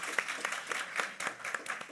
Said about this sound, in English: deserve applause, definitely.